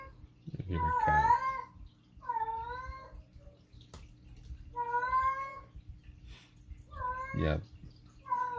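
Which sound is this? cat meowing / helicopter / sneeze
cat meowing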